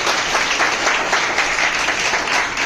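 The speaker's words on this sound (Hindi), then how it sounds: "एक बार आपके लिए जोरदार ताली कीजिए।" Steady, dense applause from a seminar audience fills the room, sustained and fairly loud throughout with no talking over it.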